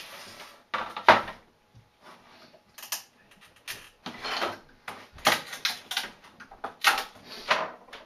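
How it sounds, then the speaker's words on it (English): A 3D-printed bearing pried off a printer build tray with an X-Acto knife gives a series of sharp clicks, scrapes and snaps in irregular bursts, close and alone. "I'm going to go ahead and remove the bearing from the build tray with my X-Acto knife here."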